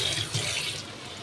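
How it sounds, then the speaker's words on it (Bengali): Hands are rinsed under a running kitchen tap, a short steady splash of water into the sink, close and moderately loud, with no speech. "এই যে কলে ধুয়ে ফেলছি হাতটা"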